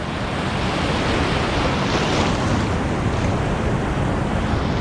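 Pacific Ocean surf pounds a beach in a dense, continuous roar of breaking waves, loud and close with wind buffeting the microphone, no voices heard.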